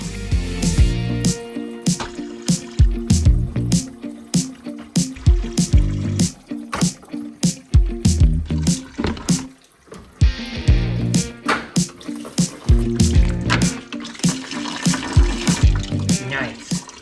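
Coolant drains from a C5 Corvette radiator in a loud, close stream of splashing drips and gurgles with an uneven rhythm that briefly thins mid-way before picking back up.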